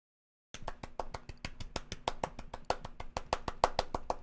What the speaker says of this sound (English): Am I clapping too early?